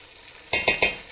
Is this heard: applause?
no